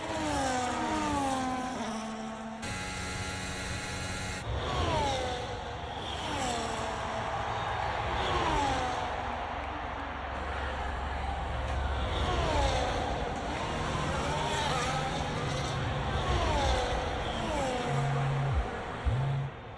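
An F1 25 Formula 1 car engine screams through repeated upshifts and downshifts while racing and overtaking, pitch sweeping up and down in rapid cycles, with brief bursts of other cars' engines alongside.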